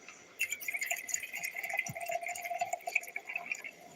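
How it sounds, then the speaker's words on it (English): Red wine pours strongly into a cup at a camp, a close, bright trickle and splash running steadily for a few seconds. "It's a strong pour"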